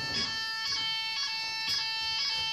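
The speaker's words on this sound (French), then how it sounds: "il faudrait que l'alarme s'arrête" A fire alarm rings steadily throughout, its high electronic tone pulsing in short repeated bursts over faint background noise, with no talking.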